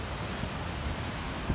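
Powerful ocean waves breaking offshore, a steady broad roar of surf with low rumbling surges and some wind noise, continuous throughout with a heavier swell at the end, no voices.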